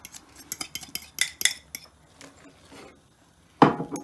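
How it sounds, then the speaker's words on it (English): Vegetables tipped into a cooking pot for a creamy veggie pasta, with a run of sharp metallic clinks and scrapes of a utensil against the pot, a quieter stretch of shuffling, then a loud clattering burst near the end. "I'm dumping the veggies back in the pot."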